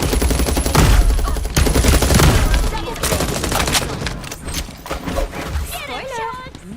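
Rapid Desert Eagle pistol shots crack out in the FragPunk shooter game, dense and loud at first, then thinning into scattered bursts, with other game sounds and voices mixed underneath.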